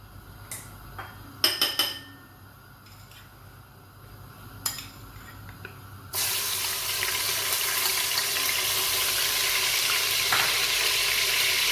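Curry leaves, garlic and ginger paste dropping into hot oil for a beef korma: a few utensil clinks and taps, then a loud, continuous close sizzle takes over for the rest.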